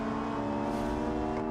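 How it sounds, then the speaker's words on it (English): Inline-five engine of a rally-style Audi-like car in BeamNG.drive, held at a steady high rev with a loud, continuous buzzing drone and no break. "that Audi rally car classic sound"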